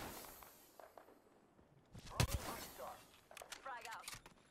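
Gunfire in a shooter video game: faint rumble, then a sharp, close burst of shots, followed by scattered lighter cracks and clattering under game ambience.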